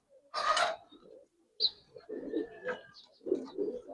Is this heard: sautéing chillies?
no